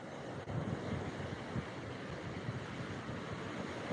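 Rough sea waves and a cold wind at Digha beach, India, forming a steady, unbroken broadband roar of surf and gusting air close to the microphone, with no voices.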